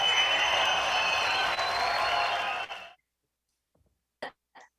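Recorded applause for a Teacher of the Year award at an evening education awards event, a steady dense wash of clapping that cuts off abruptly, followed by silence and a few brief faint sounds.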